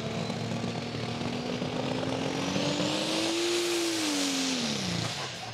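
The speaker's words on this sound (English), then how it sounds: "slowly building the boost to get those turbos singing" A turbocharged pulling tractor at the Kirkbride Power Weekend builds boost under load, a sustained loud engine drone with a rising turbo whine that climbs, peaks, then drops near the end.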